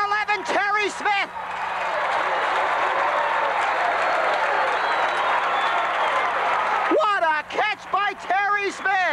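A large football crowd on the Pennsylvania side roars for a long stretch after a deep catch at the 5-yard line in the 1987 Big 33 game, Pennsylvania vs Maryland; a commentator's voice is heard before and after the sustained cheer.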